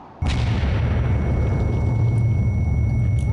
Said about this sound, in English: this is what an explosion looks like from a frag.